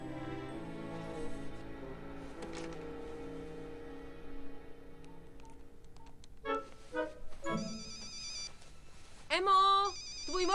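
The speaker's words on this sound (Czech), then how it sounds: "tvůj mobil." A mobile phone rings with a tonal, melodic ringtone that repeats over several seconds and grows louder and brighter toward the end, heard close and clear indoors.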